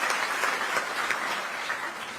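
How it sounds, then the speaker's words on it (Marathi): Sustained applause for honoured children at a community felicitation gathering, many hands clapping steadily at even loudness throughout, no voices. "एकदा जोरदार आपल्या मुलांकरता या ठिकाणी टाळ्या वाजवल्या पाहिजे"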